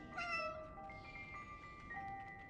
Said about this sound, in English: Why is that cat meowing?